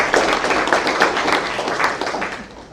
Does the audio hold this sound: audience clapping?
yes